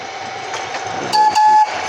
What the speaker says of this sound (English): All right, horn salute.